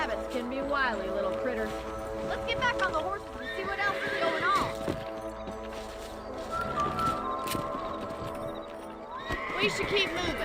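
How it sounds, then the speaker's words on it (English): Horses whinny and neigh while hooves clip-clop steadily on the ground, set in a Wild West scene with cattle and rustlers, with a voice talking over the animals and a busy, continuous backdrop. "Let's get back on the horses and see what else is going on."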